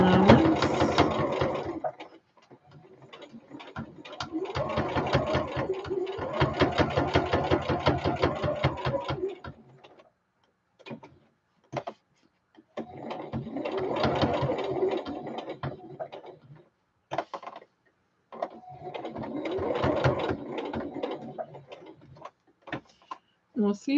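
A sewing machine runs in several bursts while stitching a quarter-inch seam, its needle chattering rapidly and evenly up close, with short pauses and scattered clicks between the runs.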